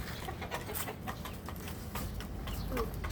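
White Kelso chickens cluck softly and intermittently against a steady background hiss, with no talking.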